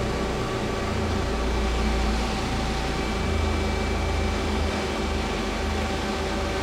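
Feeler HT 30Y CNC turning center's X-axis ball screw driving the slide, a steady even mechanical whir with a low hum and faint motor tones, continuous and close with no talking.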